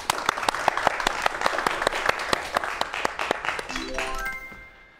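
A lecture audience applauds a professor about to speak on science fiction films and time travel, steady broadband clapping with sharp individual claps throughout, then a rising electronic tone sweep enters near the end as the applause fades.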